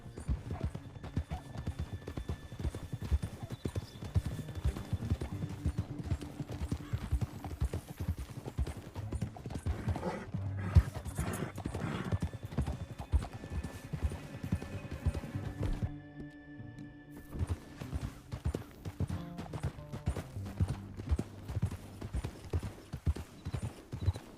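Rapid hoofbeats of galloping horses in a video game drum continuously, with occasional whinnies and clattering, loud and close throughout.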